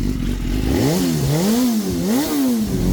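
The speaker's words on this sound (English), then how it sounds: "Gotta get that race fuel out, give it a few little revs," A superbike engine running on race fuel gives several quick revs, its pitch climbing and falling in rapid sweeps over a steady idling rumble, loud and close with no voices.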